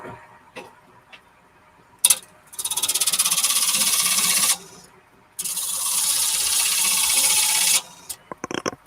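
Wood being turned on a lathe with the tailstock slightly loosened gives two sustained, close raspy scraping passes of a few seconds each, separated by a short pause, with light clicks before and after.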